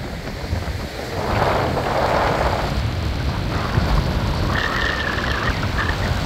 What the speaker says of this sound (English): Just hear the ocean, you know?